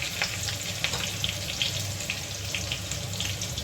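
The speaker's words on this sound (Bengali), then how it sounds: "তেলটা গরম হয়েছে, এখন জিরা ফোড়ন দিচ্ছি। আর দিচ্ছি আমি এই যে রসুন" Cumin seeds and garlic pieces sizzle steadily in hot oil, a dense close crackle with small popping spurts spread through the few seconds, no voices heard.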